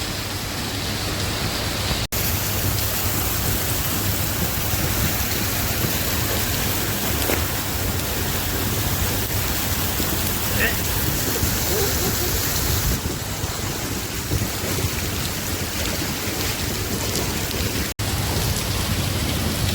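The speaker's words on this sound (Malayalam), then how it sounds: "ഇങ്ങനെ മഴ പെയ്തുകൊണ്ടിരിക്കുകയാണ് അതിശക്തമായ രീതിയിലുള്ള മഴ" Heavy rain pours down steadily in Dubai's Al Karama district, water also streaming from rooftops into a flooded parking area, a dense, loud, continuous roar of falling water lasting throughout with no clear voices.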